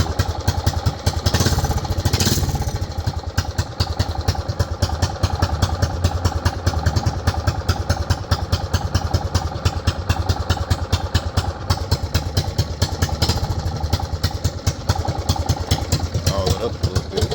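A small mini bike engine with a worn carburetor idles roughly, running cold with a fast, uneven putter and clatter that holds close and loud throughout, with no talking.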